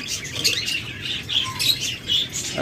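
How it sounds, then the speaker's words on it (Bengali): Lutino red-eye birds, bright yellow with red eyes, give repeated short chirps and squawks close by, mixed with soft wing flutters against a light background hiss. "টকটকে হলুদ, কাঁচা হলুদ রং এবং লাল চোখের পাখি, যাকে বলে লুটেনো রেড আই"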